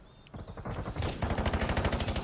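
Rapid automatic weapon fire from a video game, a steady stream of closely spaced shots building after a quieter start and continuing loud and close to the end, with no talking over it.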